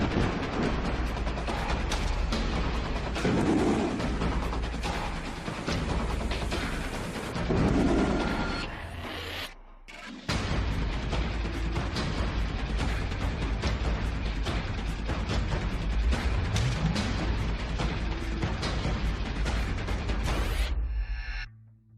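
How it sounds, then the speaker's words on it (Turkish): A large explosion during military demolition training erupts as a deep, sustained roar, followed by a second heavy blast and a long rumbling wash that fades out after a brief lull. "bugün gerçekleşecek büyük patlamada sıra"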